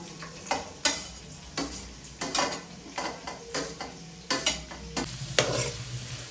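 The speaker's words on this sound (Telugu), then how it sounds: "3 టేబుల్ స్పూన్స్ ఆయిల్ వేసుకొని, ఆయిల్ హీట్ ఎక్కాక ఆనియన్స్, పచ్చిమిర్చి వేసి" Onions and green chillies fry in hot oil for a tuna dish while a spatula scrapes the pan in a steady rhythm of repeated strokes. Each stroke sounds close over a continuous sizzle, and no one speaks.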